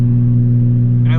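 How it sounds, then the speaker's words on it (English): A daily-driven street car idles with a deep, steady, race-car-like engine rumble, loud and close for the whole stretch, with strong low tones throughout and a brief rise in higher noise at the end. "I really like how my car sounds like a race car"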